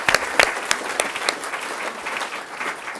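Audience applause at an open source in the arts awards event in Wellington, a steady wash of many hands clapping with a few sharper, closer claps standing out, moderately loud and sustained.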